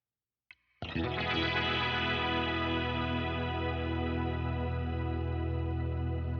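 A guitar runs through an Electro-Harmonix POG2 octave pedal set for a bright shimmer. After a brief soft click, a single sustained chord blooms and rings on steadily with a layered, glassy upper sheen.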